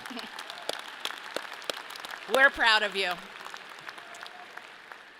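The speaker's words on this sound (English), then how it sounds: "This is for you to clap." Audience applause fills a college commencement ceremony, a moderate, steady patter of many hands with scattered sharper claps, while a voice calls out briefly over it before the clapping fades slightly.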